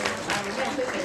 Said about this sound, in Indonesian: beri tepuk tangan bagi kemuliaan Tuhan